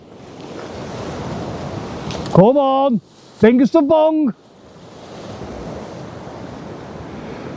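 Sea water washes and splashes against a harbour wall with a steady rushing surge and wind noise, while someone talks over it in short bursts in the middle.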